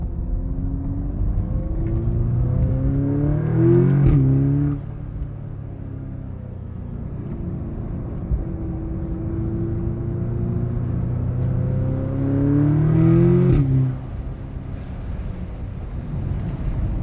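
A 2020 Audi S3 8V with S-tronic gearbox pulls hard under acceleration, its engine note rising steadily in pitch, dropping at a shift and then climbing again, with steady road rumble and wind noise throughout.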